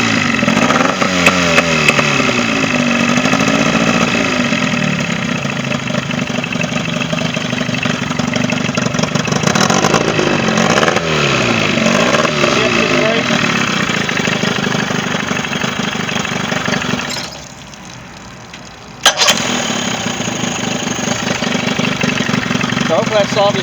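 A serviced Johnson 25 HP outboard motor runs continuously with a close, loud, steady buzzing drone, dipping briefly near the end before picking up again.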